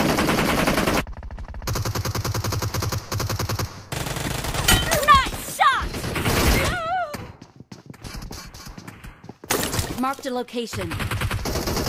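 Gunfire in the BGMI battle royale mobile game, with rapid bursts of automatic fire broken by short pauses and single shots, mixed with game voice callouts.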